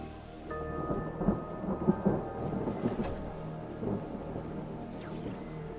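Thunderstorm with steady rain in the video game Mind over Magic, a continuous wash of rainfall with low rumbling thunder swelling and fading throughout, no voices.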